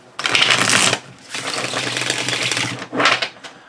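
Close, crisp tarot deck shuffling in three bursts of rapid papery rattling, the middle one longest, with brief pauses between.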